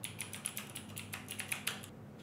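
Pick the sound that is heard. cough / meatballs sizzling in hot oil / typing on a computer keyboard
typing on a computer keyboard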